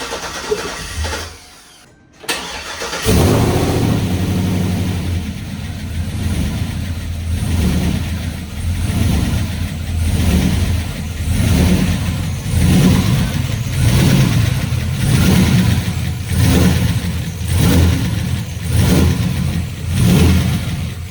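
Chevrolet Trailblazer SS with new cylinder heads and a swapped cam cranks, then catches and runs roughly, its engine surging and dropping in a loud, uneven rhythm of repeated revs close by.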